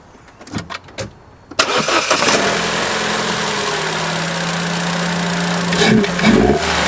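A Vauxhall Corsa D 1.2 fitted with an induction kit cranks and fires after a few faint clicks, then settles into a loud, steady close-up idle with a couple of short revs near the end.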